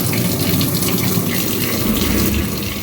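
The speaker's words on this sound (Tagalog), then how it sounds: "Dito sa banyo. Buksan din natin ang gripo." Water runs steadily from an opened tap in a home bathroom, a continuous close splashing gush with no voices over it.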